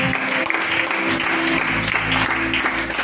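A church congregation claps and cheers in praise, with dense, continuous applause and a murmur of crowd voices over sustained background music.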